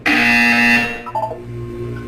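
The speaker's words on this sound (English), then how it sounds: "You will hear a buzzer." A loud electronic buzzer in the video game Portal 2 sounds one harsh, steady tone for almost a second and then fades, leaving soft mechanical tones and ambient hum.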